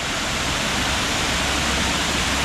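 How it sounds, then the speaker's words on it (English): Waterfalls in Mexico pour with a dense, steady roar of rushing water, close and unbroken, with no voices over it. "And there's the waterfalls"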